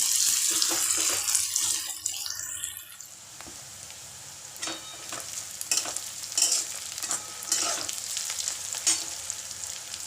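Chopped onion for a potato dosa filling frying in a pan, a continuous sizzle with occasional scraping stirs, moderately loud and close, with no talking.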